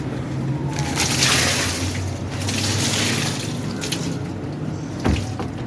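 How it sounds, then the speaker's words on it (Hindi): Water splashing and pouring out in uneven surges, sloshing near by, with a brief thump toward the end. "इस पानी को हम गिराएंगे।"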